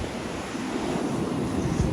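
Ocean surf rolling onto Cocoa Beach with wind, a steady broadband roar that holds at an even level throughout, with gusts buffeting the microphone and no voices.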